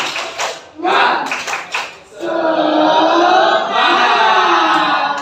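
A classroom group of students performs the "tepuk semangat" clapping chant, bursts of rhythmic claps and shouted voices at first, then a sustained loud crowd chant with continuous clapping, close and energetic.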